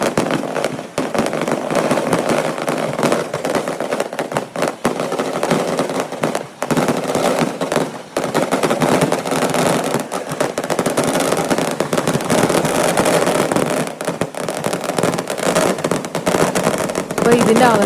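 Thrissur Pooram fireworks in 2024 crackle and boom in a dense, relentless barrage, loud and close, with rapid bursts piling over each other and a crowd's voices mixed faintly underneath.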